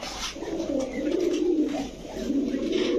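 A Pakistani giribaz racing pigeon coos in low, rolling murmurs, repeated close by over a few seconds against faint background noise.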